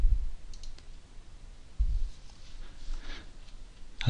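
Computer mouse clicks while installing a WordPress theme, a few sharp, close clicks spaced more than a second apart over quiet room noise.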